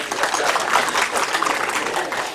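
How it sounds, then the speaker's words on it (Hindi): Audience applause at a formal FICCI gathering: a dense, steady wash of many hands clapping, fairly loud and close, holding evenly for a couple of seconds with no pause. "आप सब लोग मेरे लिए तालियां बजा सकते हैं"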